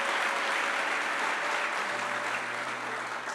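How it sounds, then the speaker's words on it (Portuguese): Steady applause from a church congregation fills the whole stretch, a dense even patter of clapping with a faint tonal hum underneath. "Então dê um aleluia, aplauda a presença dele."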